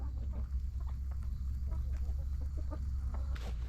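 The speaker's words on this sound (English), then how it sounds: "Big wave of chickens coming at you." Chickens on a farm cluck and chatter steadily as a flock is called out, with several birds audible at once over a continuous low rumble.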